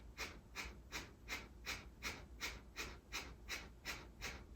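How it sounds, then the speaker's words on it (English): Powerful rhythmic breathing during a guided breathing exercise, about a dozen quick, even, forceful breaths, close and fairly faint, with no talking. "cleansing yourself with your powerful breath"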